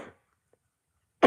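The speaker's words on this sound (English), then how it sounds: "The cough is the worst." A person sick with a contagious illness gives a short cough, then another harsh cough after a brief silence.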